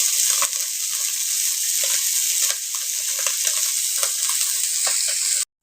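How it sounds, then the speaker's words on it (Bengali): Fish frying in a pan for a village home lunch, a loud continuous sizzle close by with occasional soft clicks of the pan, no talk. "হ্যাঁ এখন দেখো আমি মাছগুলোকে ভেজে নিচ্ছি।"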